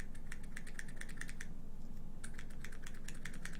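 Rapid typing on a Razer BlackWidow Chroma V2 keyboard with Razer Orange switches, a close, steady stream of soft keystrokes with a brief lull midway before the clatter resumes.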